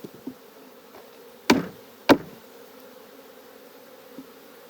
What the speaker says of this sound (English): What we'll do is we'll shake these bees into here to get them off the frame.